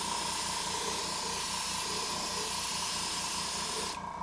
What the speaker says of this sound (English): we've got a nice even spray on our mask here